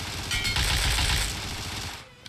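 Spraying automatic gunfire in PUBG Mobile, one long, loud, continuous burst of rapid shots that trails off near the end, with no talking.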